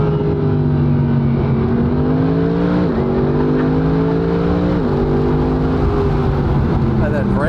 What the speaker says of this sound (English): the downshifts are legit